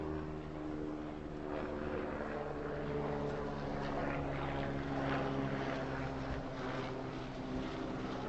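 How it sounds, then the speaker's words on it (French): A helicopter passes over a village, its steady low rotor and engine drone holding loud and continuous throughout with no talk. "Ah, un hélicoptère, je ne sais pas si vous entendez."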